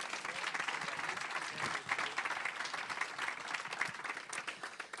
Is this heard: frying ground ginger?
no